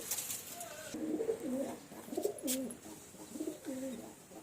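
Soft coos from a male pigeon in a loft repeat in low rolling phrases, with a few brief pauses, over faint background hiss.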